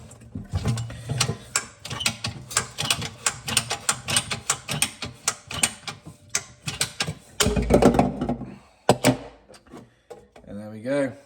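Sink waste pipework being cut back with a hand saw during an InSinkErator model 46 installation, with rapid rasping strokes for about seven seconds, then a few louder scrapes and clunks as the cut finishes.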